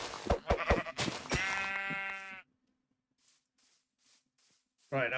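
Sheep in the Minecraft video game bleat in a few short nasal calls close by, with a stretch of near silence and soft clicks before a final bleat.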